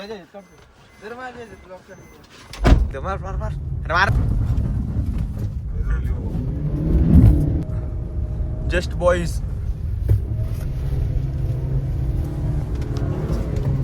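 A car engine runs with a steady low rumble throughout, while several people talk and call out over it, with a brief loud knock near the start.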